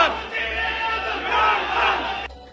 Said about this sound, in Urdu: وکلا نے وزیر اعظم عمران خان کے نعرے بلند کر دیے